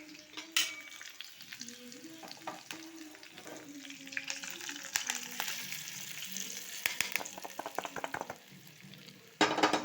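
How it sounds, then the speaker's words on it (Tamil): Hot tempering poured into pongal sizzles and crackles as it hits, followed by stirring and scraping in the pot, with a louder burst of frying near the end, close up and moderately quiet. "இப்போ இந்த தாளிப்பு எடுத்து இதில் ஊற்றிக்குவோம்."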